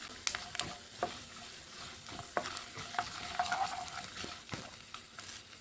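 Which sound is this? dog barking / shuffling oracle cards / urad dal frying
urad dal frying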